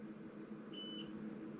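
A single short electronic beep from a battery management system, high and clear, sounds briefly over a steady low hum as its charge MOSFET switches off.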